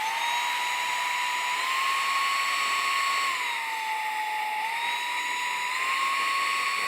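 A DIFFULL 550W cordless stick vacuum cleaner runs steadily at close range, its high motor whine shifting pitch slightly as it switches between power modes, with no talking.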